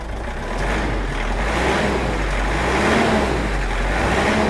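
A Mitsubishi Triton diesel pickup with a 4D56 engine idles close by, then rises into a sustained rev, holding a loud, steady roar for several seconds.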